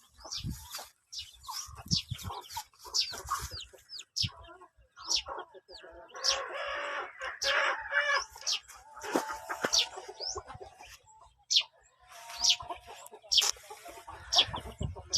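Chickens cluck and chirp in a farmyard with gamecock hens, scattered calls in irregular bursts close by, with occasional faint talk.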